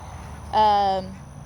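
A single loud, harsh quack from an Ancona duck lasts about half a second in a quiet garden setting. It is close and stands alone with no speech.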